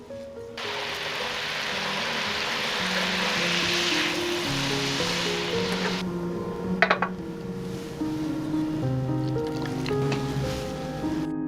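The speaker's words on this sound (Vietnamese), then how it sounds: "Còn nước ướp thịt thì mình đun sôi và cho vào nồi thịt luôn." Boiled meat marinade is poured into a pot of pork with a continuous rushing, sizzling wash of sound. A brief clatter of cookware follows midway, all over soft background music.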